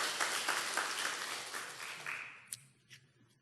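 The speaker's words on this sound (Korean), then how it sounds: "우리 함께 축복의 박수 한번 합시다." A church congregation gives a short round of applause that is dense at first, then thins and dies away into scattered final claps.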